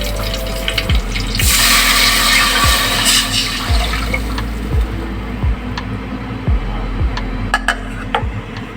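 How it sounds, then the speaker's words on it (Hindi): Two glasses of water are poured into green chillies frying in ghee for khichdi, giving a loud hiss and rushing splash, then a quieter simmer with repeated low thumps. "अब मैं इसमें ऐड करूँगी 2 गिलास पानी।"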